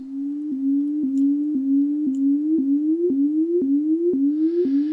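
A steady modular synthesizer oscillator tone, swept by a sawtooth LFO, repeatedly glides slowly upward in pitch, then snaps back down with a click, about twice per second in an even, mechanical cycle.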